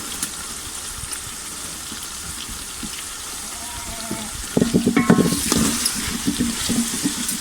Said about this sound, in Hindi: मटर हमारे फ्राई हो गए हैं।